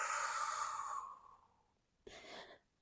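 A long, soft exhale through the mouth during yoga breathing, close and gentle, tapering off before a shorter second breath follows.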